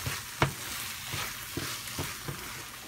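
Brinjal and green peas curry with sambar powder stirred in a pan: a low, steady sizzle punctuated by several distinct spatula knocks and scrapes, close up with no talking.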